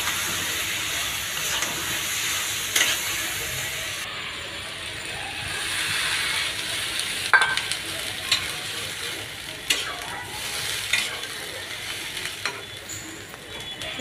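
Bele fish going into a sizzling pan of cooked-down masala, a continuous hiss and crackle with intermittent clicks and scraping from handling the pan, close up and without talk.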